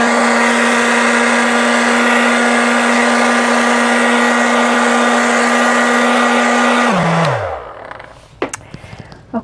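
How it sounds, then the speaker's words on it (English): A loud, steady hair dryer roars close by for about seven seconds, drying a watercolor painting, then winds down, followed by faint handling clicks. "Now I'm going to continue drying it with the hair dryer."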